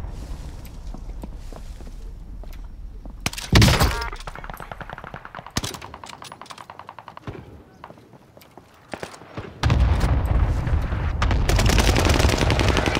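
Gunfire from enemy soldiers in a video game: sharp bursts of rapid automatic fire and single shots, some loud and close, others fainter, broken by quieter gaps and ending in a sustained noisy barrage.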